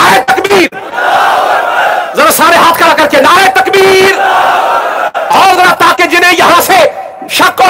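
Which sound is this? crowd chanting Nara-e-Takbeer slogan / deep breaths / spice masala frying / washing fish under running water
crowd chanting Nara-e-Takbeer slogan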